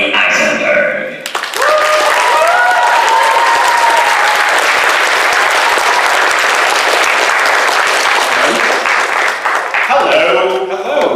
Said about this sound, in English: Please give a big round of applause as we welcome to the stage the storyteller himself